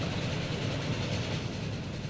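A train in Transport Fever 2 rolling into a station, a steady low rumbling drone of engine and wheels, continuous and fairly loud with no talking.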